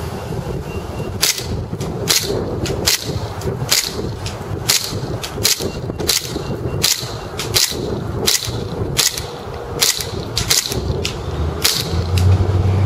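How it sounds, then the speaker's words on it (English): A KWA MKII 1911 gas airsoft pistol fires BBs outdoors in cold weather, giving a long series of sharp, snappy pops at an irregular, fairly quick pace, loud and close, until the magazine runs empty. "let's just go ahead and load this thing up and shoot it"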